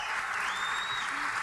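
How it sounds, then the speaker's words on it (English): Pageant audience applause fills the room, a dense steady wash of clapping from a large crowd with no break over its length. "I would say that's probably the biggest crowd reaction."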